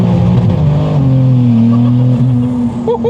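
1000HP AWD BMW M3 accelerating hard in first gear, a loud continuous engine roar with rising and shifting pitch, heard close from inside the car.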